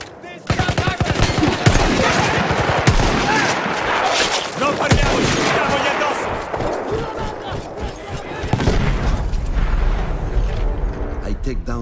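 Dense, loud battlefield gunfire from Battlefield 1, with continuous rapid bursts that fit a machine gun among booms and clatter across the whole stretch, and a voice talking over the din.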